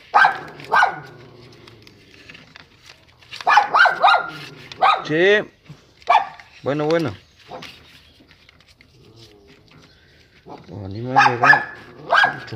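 A dog barks in a repair workshop where a Ford F-100 is being worked on, several loud close barks in bursts spread across the clip, with someone talking in between.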